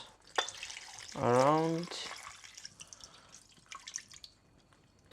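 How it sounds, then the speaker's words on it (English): Water is poured into a pot of stuffed grape leaves for dolmades, giving close splashing and dripping. A voice briefly speaks over it early on, and scattered drips follow. "the last step is to pour water until it covers"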